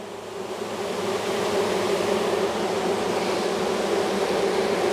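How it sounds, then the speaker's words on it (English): Many honey bees swarming around an open hive during a spring inspection, a dense continuous buzzing drone that swells slightly and stays loud and close. "there's so many bees"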